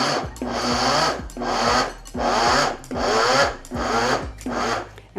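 Food processor pulsing flour and vegan butter, five or six short whirring bursts with brief pauses between them, each motor run starting with a dropping hum and a gritty grinding texture, loud and close.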